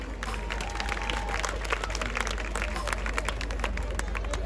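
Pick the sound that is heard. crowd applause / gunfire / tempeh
crowd applause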